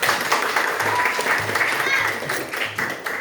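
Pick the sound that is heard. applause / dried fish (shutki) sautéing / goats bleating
applause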